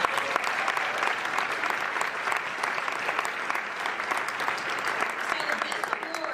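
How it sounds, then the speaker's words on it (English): Sustained applause from a crowd fills the room at a nursing school convocation ceremony, a dense, even clapping that carries on for several seconds with no break. "So let's give them a round of applause."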